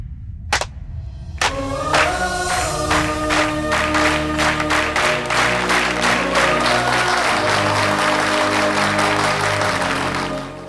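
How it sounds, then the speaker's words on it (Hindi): A crowd applauds a man in a South Indian action film, many hands breaking into sustained clapping after a brief pause, loud and close, layered over sustained musical tones that swell beneath it. "आप लोग मेरे लिए एक बार ताली बजा दीजिए"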